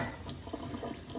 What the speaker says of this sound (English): So what I do is I get a bit of water running.